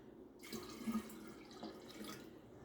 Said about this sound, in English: so I usually give it a little stir